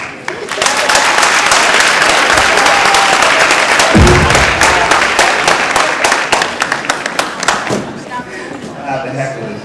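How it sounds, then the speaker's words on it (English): An audience at a live event applauds loudly in a steady, dense wash of clapping that lasts several seconds and then thins out, with a voice talking over it. "let's give a round of applause"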